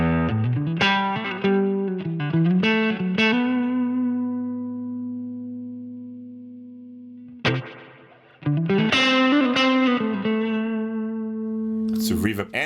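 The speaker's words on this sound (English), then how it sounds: "Maybe with some reverb." Electric guitar through a ToneX Silver Champion Dirty amp model with added reverb, phrases ringing out with a reverb tail, a long sustained note fading into space, then more picked lines returning.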